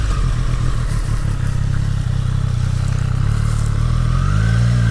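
A 2023 Triumph Street Triple 765 RS runs under a rider at speed, its engine a loud steady drone with a rising pitch toward the end, mixed with heavy wind rush, with no talking.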